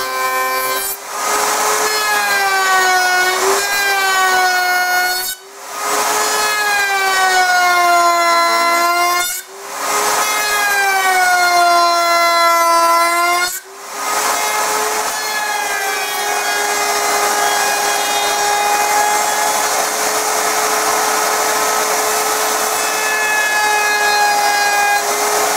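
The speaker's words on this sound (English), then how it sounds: "now I got to router out this outer part, taper the top" A router cuts the outer edge of a wooden heater vent cover, a loud whining tone that rises and falls in long passes, broken by three brief drops and then holding steady to the end, close up.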